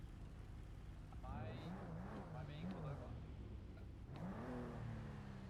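A car engine in the GTA V roleplay game NoPixel revs and shifts in rising and falling sweeps, holding steady near the listener with a voice talking over it.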